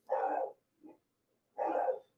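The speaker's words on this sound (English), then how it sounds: "Oh, calm down, dogs." Dogs bark in two loud, close bursts separated by a short, softer yelp, with near silence in between.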